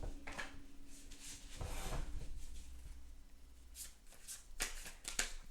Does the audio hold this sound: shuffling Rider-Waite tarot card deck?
yes